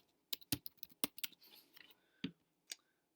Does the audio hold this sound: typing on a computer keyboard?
yes